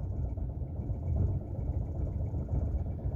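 Close, steady low rumble of a Ford Fiesta 1.0 8v engine idling rough and misfiring, with a lumpy, uneven pulse and no talking.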